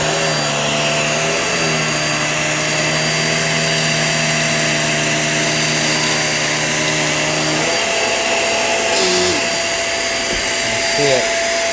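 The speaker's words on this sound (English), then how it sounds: "we're going to clean up some rice on this rug on the hard floor" A Hoover React QuickLift vacuum cleaner runs steadily on a rug over hard floor, picking up rice, its motor whine shifting pitch as the brush roll slows partway through, with brief rattles near the end.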